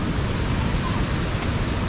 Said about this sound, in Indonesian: Ini ada aliran sungai.